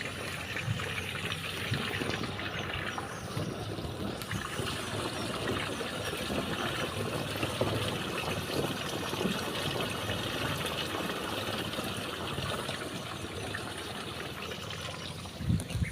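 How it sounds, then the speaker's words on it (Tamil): Lake water pours steadily into a drinking-water borewell, a continuous close trickling and gushing flow that runs unbroken throughout with no talk. "இப்போ போருக்குள்ளே தண்ணி போயிட்டே இருக்குது"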